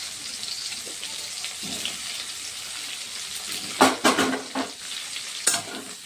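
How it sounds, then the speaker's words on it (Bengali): Jackfruit pieces seasoned with salt and turmeric fry in a pan with a steady close sizzle. A few louder stirring scrapes and clatters break through near the end. "একটু নুন হলুদ দিয়ে নিচ্ছি, দিয়ে একটু ভেজে নেব এগুলোকে।"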